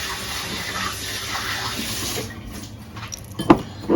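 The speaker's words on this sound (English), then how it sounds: "Let me wash my hands quickly." Hands washed under a running kitchen tap, a steady close stream of water splashing into the sink that thins out midway, followed by a few sharp knocks and taps at the end, no voices.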